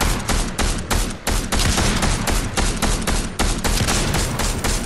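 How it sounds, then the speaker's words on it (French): A Fortnite match crackles with rapid gunfire, dense repeated sharp shots firing in quick bursts throughout, loud and close, with no talk heard. "Tu viens de te prendre une balle de fusil à pompe dans la gueule"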